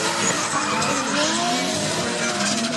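Drift cars skid through a corner at Anglesey Circuit during a European Drift Championship practice run, with loud continuous tire squeal and engine roar sustained throughout, close and dense.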